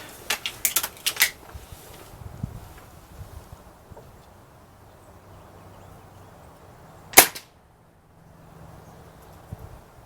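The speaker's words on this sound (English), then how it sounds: "All right, that's 3 shots, still high." A Gamo Swarm .22 air rifle with a new piston seal: a quick cluster of sharp mechanical clicks, then one loud, crisp shot crack near the middle, and faint clicks at the end.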